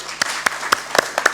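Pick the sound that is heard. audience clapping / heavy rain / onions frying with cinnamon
audience clapping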